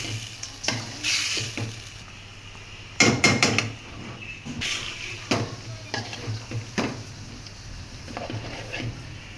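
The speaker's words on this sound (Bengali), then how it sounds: "ইলিশ মাছের পাতরি তেল দিয়ে দিছে ডেকসিতে পেঁয়াজ কুচি" Chopped onion fries in oil in a large metal cooking pot, soft sizzling under repeated stirring scrapes and sharp clanks of a spoon against the pot, close and intermittent, with no talking.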